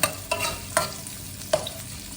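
Ginger and chicken wings being stirred in a pot for tinola, with three distinct scraping strokes of the spoon over a soft sizzle.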